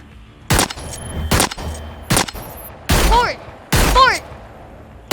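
Five heavy, separate gunshots from a weapon in the video game Hyperscape, evenly spaced and loud, the last two with a ringing, swooping electronic tail.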